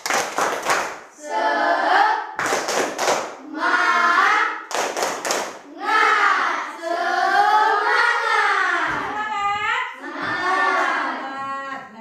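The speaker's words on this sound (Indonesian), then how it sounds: "Yuk, coba dulu kita tepuk semangat dulu yuk" Schoolchildren in a classroom perform the 'tepuk semangat' clapping chant: short bursts of crisp, rhythmic group claps alternate with loud chanted phrases sung together, repeating in a lively call-like pattern close by.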